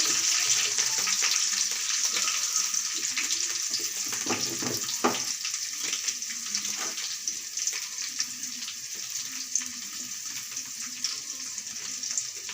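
Curry leaves and onion sauté in a pan for South Indian khichdi, a continuous soft sizzle with a few stirring scrapes, steady and fairly close, with no talk.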